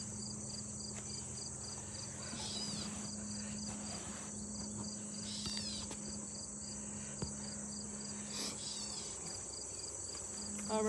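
Honeybees humming in an open hive during a late-August inspection in Pennsylvania, a steady faint buzz under a high insect drone, with a few bees flying past up close.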